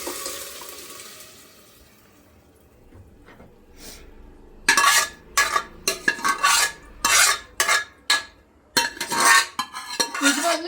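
Cooked lentils are stirred into sambar in a pot: after a quiet start with faint sizzling, a quick series of loud scraping, clattering strokes against the pot follows, close and alone.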